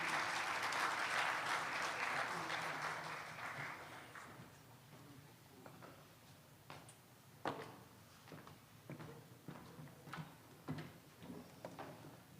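Audience applause at a closing ceremony for a journalist economics training program, a dense loud burst of clapping that fades after about four seconds into scattered claps and faint room noise.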